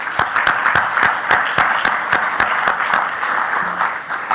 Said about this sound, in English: I'd just like to have another round of applause for all the presentations today